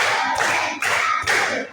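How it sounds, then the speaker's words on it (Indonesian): A classroom of students claps together in a counted rhythm, three loud, sharp group bursts evenly spaced less than half a second apart. "Tepuk 1, tepuk 2, tepuk 3, tepuk 4,"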